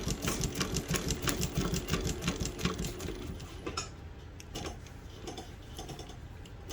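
Sewing machine doing two-thread chain stitch embroidery, a rapid mechanical rhythmic clatter of stitches that slows and changes pattern partway through, fairly close and moderately loud.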